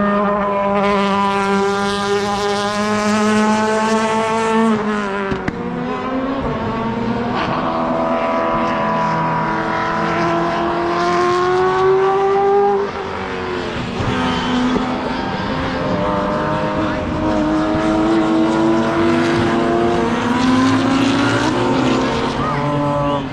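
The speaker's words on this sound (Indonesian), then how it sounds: "ada balapan mobil-mobil touring legendaris" Classic touring race cars from series such as BTCC and DTM roar at the Nurburgring 24 Hours, loud, layered engine notes rising and falling as cars accelerate, shift and pass, continuous throughout with a faint voice underneath.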